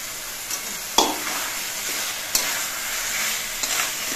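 Cumin paste is stirred into taro greens cooking with hilsa fish heads in a pan, a steady moist sizzle broken by a few sharp spoon knocks against the pan, close up and without talk.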